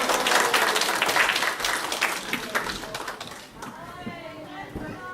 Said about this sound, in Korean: 우리 다시 한번 우리 박수로 우리 경배하겠습니다